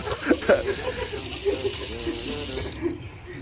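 Water running from the faucet of a newly installed terrace sink, a steady close splashing stream that drops away near the end, with a voice speaking briefly in the background.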